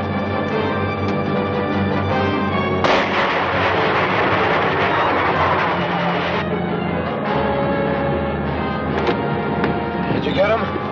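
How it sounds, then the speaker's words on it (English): Sharp rifle shots crack out over a steady engine drone in an old 1952 serial, one heavy blast followed by a few fainter reports. "Use the rifle."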